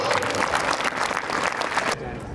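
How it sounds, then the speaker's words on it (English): An audience at a school exhibition inauguration claps together in a dense, sustained burst of applause that cuts off near the end. "Please give a big round of applause."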